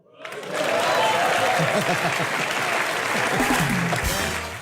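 Dense, loud audience applause on a Hindi comedy show swells quickly and holds steady, a continuous wash of clapping with faint voices mixed underneath before tapering slightly at the end.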